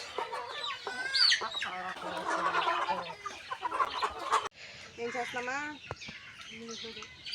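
Chickens cluck and chatter busily close by inside a shed, a dense overlapping flock sound with sharper squawks rising now and then.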